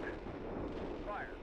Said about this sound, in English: Yeah, there's an explosion.